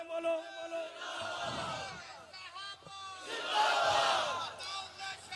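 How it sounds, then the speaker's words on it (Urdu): A large crowd at a Khatm-e-Nabuwat conference in Chenab Nagar roars a religious slogan in unison, with loud surging waves of massed voices that swell, dip and rise again, echoing through the gathering. "اٹھ کے لاؤ کوئی نعرہ مسلمان جذبے نال تے بولو"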